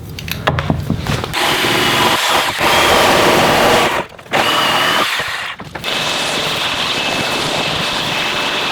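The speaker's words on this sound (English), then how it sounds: "I'm just gonna cut a notch into this to make it fit." A power tool cuts a notch into a wooden board, loud buzzing bursts broken by short pauses, then a sustained high-pitched whine near the end.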